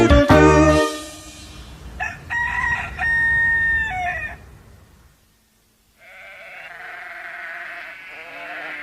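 A cockerel on a farm gives a loud cock-a-doodle-doo crow after a short burst of noise, then a pause, followed by a sheep bleating steadily.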